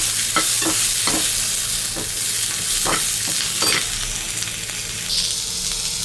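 Cumin and chopped medium tomato frying in a pan: a continuous sizzle under repeated stirring scrapes and clacks of a spoon against the pan, at an irregular rhythm, close and fairly loud.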